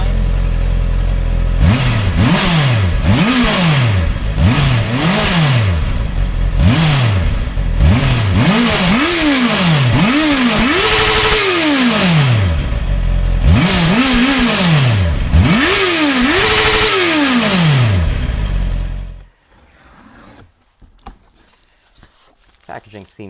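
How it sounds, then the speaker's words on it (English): A 2023 Honda CB650R motorcycle fitted with a K.O. Lightning exhaust revs repeatedly close to redline, loud and near, with sharp rising and falling engine sweeps in quick succession before cutting to quiet handling noises. "Rev it up to almost red line."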